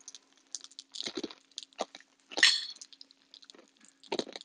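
Crunchy five-spice roast pork belly skin being chewed, a close series of crisp crackling crunches in irregular bursts, fairly faint against a quiet background with no talk.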